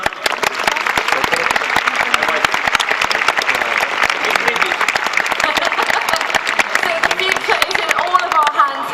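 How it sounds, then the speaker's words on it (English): A crowd at the Campus Party 2013 opening ceremony applauds for Lucy, dense and continuous clapping that stays loud and even throughout, with a voice or two faintly mixed in. "Un aplauso para Lucy."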